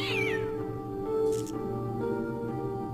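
A cat meows in the video game Fran Bow, a falling wail at the start followed by a shorter cry, heard close over a steady low musical drone with no talking.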